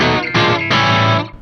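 High-gain electric guitar through a Neural DSP Soldano SLO-100 amp plugin: two loud, sustained distorted chords, the second struck at about the midpoint and ringing until a brief cutoff, with no one talking.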